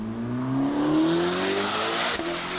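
A Chevrolet Corvette C8 ZR1 with a turbocharged V8 accelerates hard, its engine note climbing steadily in pitch, loud and close, with a brief dip at a shift near the end.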